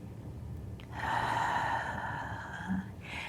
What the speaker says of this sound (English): feel the breath into the low back, and then exhaling